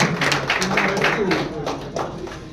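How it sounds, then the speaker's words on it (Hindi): Audience applause at a Santoor prize draw, a dense continuous patter of many hands clapping throughout, fairly loud and steady with slight swells. "अरे ताली बजाओ भाई एक बार फिर से यार"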